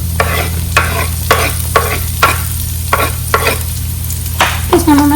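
Chopped onions frying in a pan, a loud close sizzle with rhythmic spatula strokes roughly every half second over a steady low hum.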